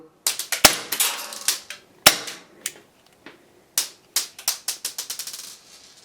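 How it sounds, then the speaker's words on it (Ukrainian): Sharp, snappy pops of a Walther PPK/S 6mm gas blowback airsoft pistol, fired singly and then in quick double-action bursts with clacking action, close and dry. "відбувається самозвод курка і постріл"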